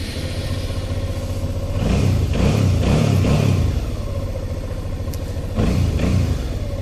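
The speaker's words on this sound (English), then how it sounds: "let me start the engine now" A 2008 Suzuki V-Strom 650 motorcycle engine idles with a steady rumble, then revs in several short bursts before settling back, with another brief rev near the end, heard close up.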